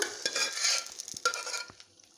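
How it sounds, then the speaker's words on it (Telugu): Cooked dal is tipped into a pan of fried onions and stirred, giving soft wet scrapes and a light sizzle, with a few spoon knocks against the pan, close up and with no talk. "ఉల్లిపాయ బాగా ఫ్రై అయిపోయింది ఇప్పుడు ఈ పప్పుని ఇందులో వేసుకుందాం"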